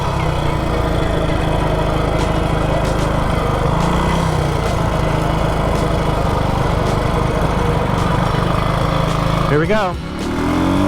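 A Moto Guzzi Stornello motorcycle engine runs loud and steady close by through a street U-turn, a constant buzzing drone with a rising surge near the end, while a voice speaks briefly over it.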